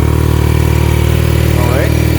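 A 2022 BMW R nineT roadster with an Akrapovic exhaust and shaft drive idles close by, a steady low engine rumble that lifts briefly near the end as the throttle is blipped.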